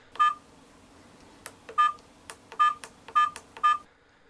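An iZeeker GD100 budget dashcam sounds a phone-style dial tone with each button press, five short, clear beeps in an uneven rhythm.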